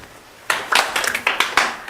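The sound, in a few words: group clapping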